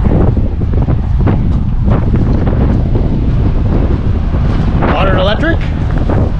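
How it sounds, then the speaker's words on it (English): Strong wind roars and buffets loudly against the microphone behind an RV at a park on Homer Spit, Alaska, a constant heavy rumble, with a brief voice breaking through near the end. "I'm behind the RV because it's super windy out here."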